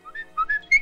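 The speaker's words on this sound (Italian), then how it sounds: "non mi svegliare sempre con sto fischio" A person whistles a short rising three-note call to wake a spouse in the morning, each note clear and close, with no talk.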